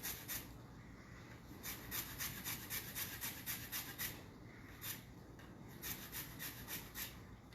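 Lime being zested for key lime bars, a faint steady rasping scrape repeating in quick strokes against the grater, close up with no talking.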